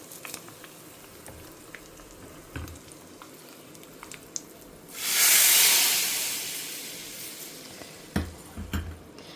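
Mustard seeds and asafoetida hitting hot oil for tempering, a sudden loud burst of sizzling and hissing that swells then gradually fades, with faint popping and a few kitchen clinks around it.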